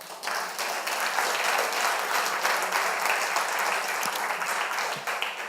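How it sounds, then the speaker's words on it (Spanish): A church congregation applauds during a Spanish-language sermon, producing steady, full clapping from many people that holds at an even level for several seconds, with no voices on top. "Ponle un aplauso al Señor mejor."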